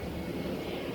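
An airplane passes overhead above a garden with tomatoes and herbs, its engine a steady broad roar that fills the full second without a break.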